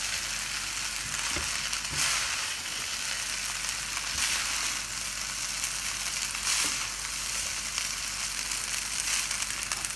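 Chicken fried rice sizzles loudly in a wok on high flame after hot sauce goes in, a steady, dense frying hiss with occasional stirring scrapes, close and continuous.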